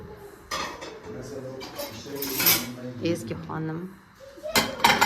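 Dishes and cutlery clatter and clink repeatedly as they are moved around in a home kitchen after a holiday meal, with people chatting close by throughout.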